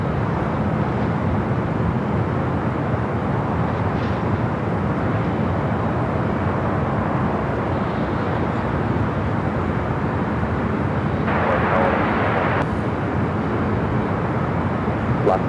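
A SkyWest Embraer E175 jet taking off at Los Angeles International Airport gives a steady, broad engine roar that holds at an even level throughout, somewhat distant and alone.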